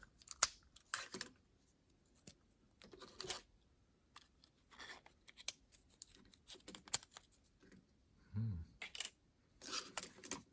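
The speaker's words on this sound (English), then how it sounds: "Take this plastic cover off the motor" Plastic motor cover pried and pulled off an RC car on an HP7 chassis: scattered sharp clicks, snaps and scratchy plastic rustles in short bursts, close and fairly quiet.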